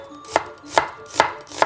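A knife slicing food on a cutting board, four crisp, evenly spaced chops about 0.4 seconds apart, close and clear with no talking.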